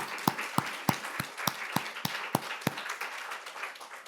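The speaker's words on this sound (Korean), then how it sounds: "영광과 찬송의 박수로 하나님 앞에 올려드리겠습니다" Congregation applauding during a Korean Sunday worship service, a crowd of claps with a few strong, evenly spaced rhythmic beats standing out over a soft wash of scattered clapping.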